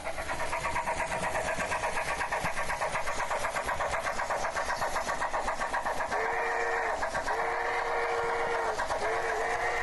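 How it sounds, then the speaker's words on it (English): A rocket train in a space video game set on Europa gives off a steady synthetic engine drone with a rapid pulsing rumble, and a rising-falling tonal wail comes in toward the end. "A rocket train."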